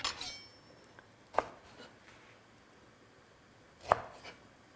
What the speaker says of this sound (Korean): 물기를 쭉 뺀 묵은지를 밥을 싸기 좋게 잘라줍니다